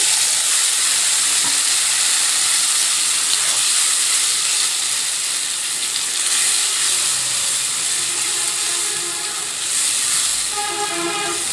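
Spices and a splash of water hit hot oil in a pan while cooking a potato and pointed gourd curry, giving a loud, steady, dense sizzle that fills the whole stretch close up, with no talk over it.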